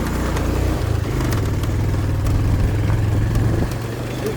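A Honda Dio scooter engine labours up an off-road hill track, a steady mid-pitched drone with slight revving swells, close and continuous throughout with no talking.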